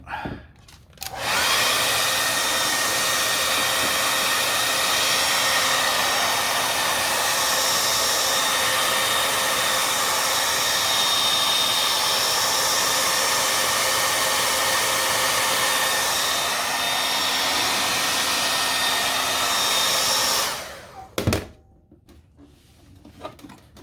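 A heat gun blows steadily and loudly on a 2011 Toyota RAV4 headlight to soften its glue, a constant broadband roar for about twenty seconds before cutting off with a click and brief handling noise.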